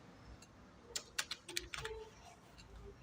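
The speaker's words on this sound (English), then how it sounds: "now I'm going to type something over here" Keys on a computer keyboard are tapped in a short, quiet burst of a dozen or so clicks, close by and faint over a low background hiss.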